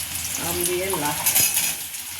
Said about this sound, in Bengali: এখন এই আমটাকে নাড়াচাড়া করবে।